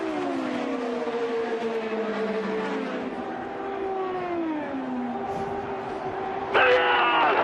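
IndyCar race cars, 2015 season, scream toward the checkered flag, a loud sustained engine drone with shifting pitch sweeps as cars pass, joined by a sharper burst near the end.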